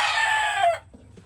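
Chickens and roosters, fighting cocks, cluck and call loudly and close up for under a second during feeding, then fall to faint scattered clucks.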